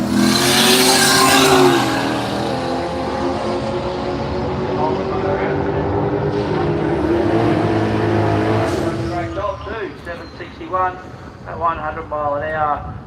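A Holden Commodore Ute races down the strip at Willowbank Raceway, engine roaring loud then fading into the distance, while a commentator talks over it throughout.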